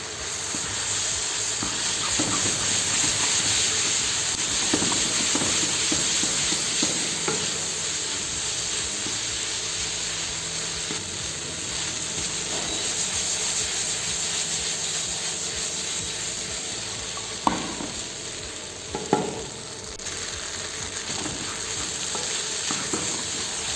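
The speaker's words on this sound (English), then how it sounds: "Now give it a nice stir on a high flame for at least a minute." Curry noodles, Singapore style, stir-fried with curry powder over a high flame, giving a steady sizzle with scraping and clattering stirring strokes and a couple of sharper knocks near the end.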